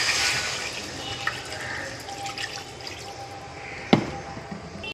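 Water is poured into a cooking pan over sautéed spices and ginger paste for a light fish curry, a steady close splashing rush with a brief sharp splash near the end.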